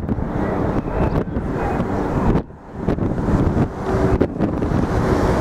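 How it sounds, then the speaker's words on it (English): Strong wind gusts across a microphone at a street corner near the World Trade Center construction site in New York, a loud steady roar that dips briefly before surging back. "Yeah, it's windy today"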